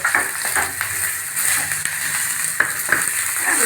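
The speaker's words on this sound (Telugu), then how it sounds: "ఉల్లిపాయలు కూడా వేగాలి" Onions fry in a hot pan with a dense, continuous sizzle and occasional soft stirring scrapes, close and fairly loud, no one speaking.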